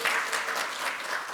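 Dense, steady applause from an audience at a social economy solidarity forum launch ceremony, filling the short stretch loud and close with no voices over it.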